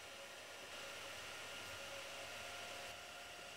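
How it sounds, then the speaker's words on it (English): An Ortur Aufero Laser 1 engraver burns a graphic into a piece of plywood, heard as a faint, steady fan-like whir that holds at an even level without breaks. "here I engrave a graphics on a piece of plywood"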